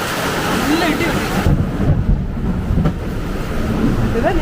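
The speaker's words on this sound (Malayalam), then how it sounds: "നല്ല ഇടി കിട്ടി." Thunder rumbles low and heavy during a rainstorm, rolling beneath a steady wash of rain while people talk over it.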